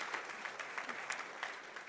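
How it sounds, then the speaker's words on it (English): A church audience gives the men a round of applause, soft and steady clapping from a crowd that stays fairly faint throughout. "I think our men deserve a round of applause"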